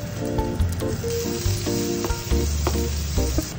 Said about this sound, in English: Heat a pan, fry garlic and onion until they start to caramelize.